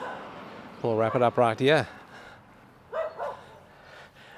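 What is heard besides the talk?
dog barking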